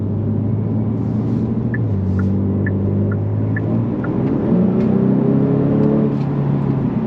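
A 2023 Genesis G70 3.3T Sport Prestige twin-turbo sedan on Michelin Pilot Sport 4S tires accelerates through its gears. A steady, moderately loud engine drone rises in pitch with each pull, with faint road rumble underneath.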